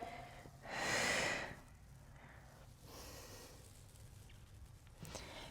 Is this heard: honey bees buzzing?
no